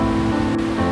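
Turquoise Avalanche Creek rushes along a shaded hiking trail in Glacier National Park, making a steady, loud, continuous wash of flowing water with no voices.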